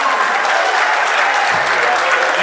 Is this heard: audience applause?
yes